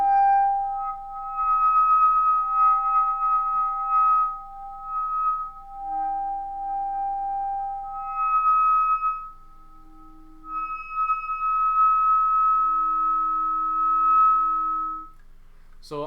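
A clarinet plays sustained multiphonics pairing F quarter sharp with A, thin pure tones that shift and waver as the fundamental intrudes, close and quiet with pauses between held sounds.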